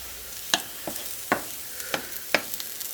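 Mushrooms searing in a pan with bok choy and chives for an Asian-style soup, heard as a soft steady sizzle broken by four or five sharp stir and scrape clicks, close and fairly quiet with no talking.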